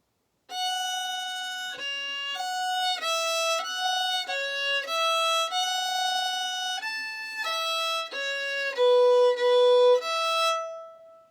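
A fiddle plays two phrases of an easy traditional tune alone, a clear sequence of bowed notes that step between pitches in a steady rhythm and end on a sustained note.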